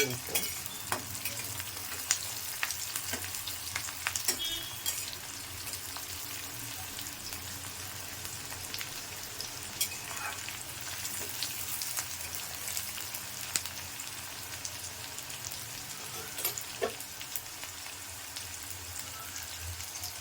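Onions and garlic fry in a pan for a tamarind curry, giving a soft continuous sizzle with occasional faint stirring clicks, quiet and steady with no talk.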